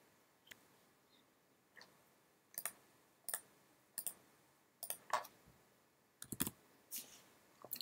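Crisp mouse clicks tap out one at a time in an irregular rhythm, close and fairly quiet, with no voices.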